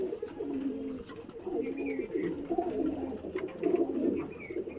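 Young pigeons cooing together in a loft, a steady low murmur of soft overlapping coos with occasional faint chirps, fairly close and continuous.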